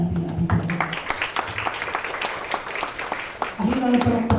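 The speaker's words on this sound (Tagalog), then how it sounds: "Palakpakan natin ang ating Panginoon." A church congregation applauds in a steady wash of clapping, with a voice speaking over it at the start and again near the end.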